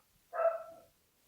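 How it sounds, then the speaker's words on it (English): A dog gives a single short bark, heard somewhat distant and alone against quiet. "No, that's a dog."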